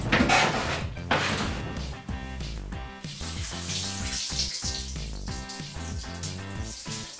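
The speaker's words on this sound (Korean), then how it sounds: "물로 헹궈 줄게요" Tap water runs steadily while sneakers are rinsed in a sink, a continuous splashing flow with some clattering, fairly close and without talk.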